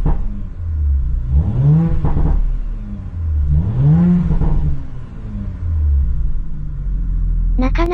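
A car engine revs up twice in strong sweeping bursts over a deep idling rumble, loud and close.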